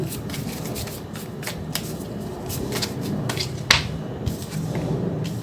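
A tarot deck shuffled by hand during a reading: a quick run of crisp riffling and flicking card sounds, close and fairly soft, with a sharper snap partway through.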